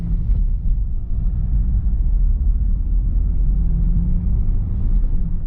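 Car on the road gradually braking down from about 50 to around 10 or 20 to bed in new brakes, a steady low road rumble and engine drone that eases slightly, no talk.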